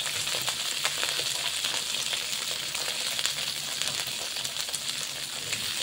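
String beans (sitaw) frying in a pan make a dense, continuous sizzle and crackle with light stirring throughout, fairly close and unbroken by speech.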